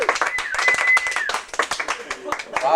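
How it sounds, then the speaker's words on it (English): At a community radio station's opening day gathering, an audience gives a short burst of scattered clapping for someone, mixed with voices and a cheer. "let's hear a big round of applause for Chief"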